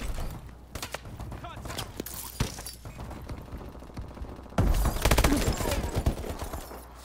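Dense bursts of video game gunfire crackle in rapid volleys, some muffled and distant as if from below, growing louder and heavier partway through, with a voice talking over it.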